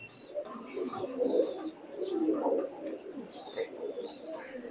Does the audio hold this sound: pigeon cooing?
yes